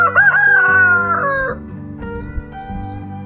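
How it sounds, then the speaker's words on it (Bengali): A local country rooster crows near a checkpoint at Gauribas on the rough mountain road to Sandakphu. One long, loud, close crow rises and trails off, followed by a quieter fading tail. "এখানকার দেশি মুরগি।"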